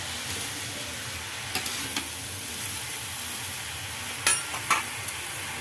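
Kachori frying in hot oil on a wood-fired stove, with a steady sizzle throughout and a few sharp clinks and stirring knocks near the end.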